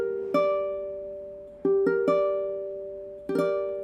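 A minor chord in root position for comparison, played on a sustained keyboard-like instrument: one struck chord ringing out, then notes picked in quick succession before the full chord sounds again, clear and alone.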